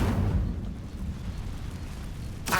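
Incendio fire spell cast in Hogwarts Legacy, a dense roaring whoosh that swells up at the start, holds as a rumbling burn, then flares again at the end, with no talking.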